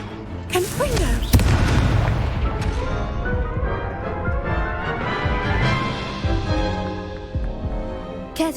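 Repeated Confringo fire-spell explosions in Hogwarts Legacy, heavy booms and crashing impacts in continuous combat with no break, loud and close, over a dense game soundscape.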